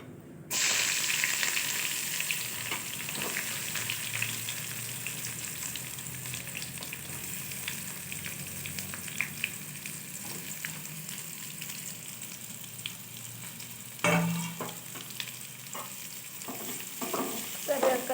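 Onions sizzle steadily in hot oil with curry leaves for an onion curry, a dense continuous fry close by with occasional louder crackles and stirring scrapes partway through.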